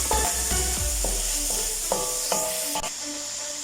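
Chicken pieces are stirred and sautéed in a hot pan for Chicken Manchurian. A steady sizzle runs throughout, broken by several scraping stirs and clinks of a utensil against the pan, with no talking.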